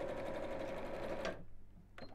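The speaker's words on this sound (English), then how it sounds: "Sorry about the sewing in straight lines," Sewing machine stitches straight lines on a fabric bag, a steady close mechanical whir that stops abruptly, followed by a brief clunk.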